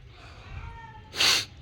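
A cat gives a faint, thin meow, followed by a short, loud breathy burst like a sneeze or hiss, all within under two seconds.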